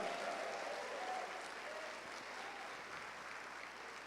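Congregation at a church service applauds in a continuous, even roar of clapping that stays faint and distant, slowly fading slightly toward the end.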